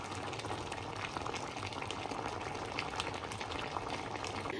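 Chicken feet adobo simmering in a pot, a dense, steady bubbling and hiss heard up close with no voices.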